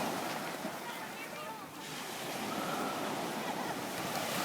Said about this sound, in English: The waves are knocking them over.